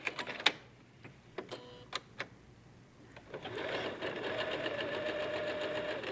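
A sewing machine chain-stitching quilt pieces together without cutting between them. A few sharp clicks and taps come first, then the machine runs in a steady whirring burst for the last few seconds, close and fairly quiet.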